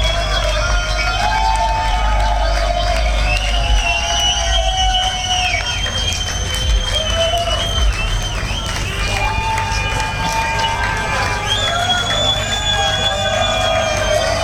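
An outdoor concert crowd calls the band back for an encore with sustained cheering, whistles and whoops, a dense continuous roar of many voices with shouts rising above it; low rumbling noise sits underneath.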